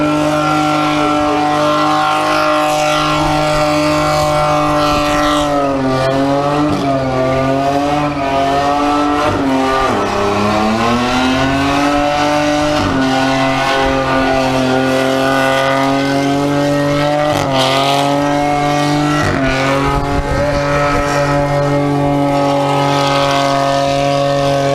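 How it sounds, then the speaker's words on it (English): A Ford car does a burnout at a burnout competition, its engine screaming loud and continuous with rising and falling revs over roaring tire squeal for the whole stretch. "Finally a Ford that can do a skid."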